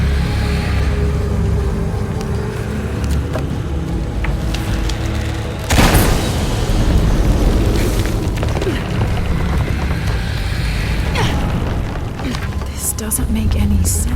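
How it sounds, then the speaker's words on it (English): A gas explosion in Shadow of the Tomb Raider goes off with one sudden, loud boom midway, trailing into rumbling debris over low ambient machinery noise. "Exploding that gas might move the pendulum."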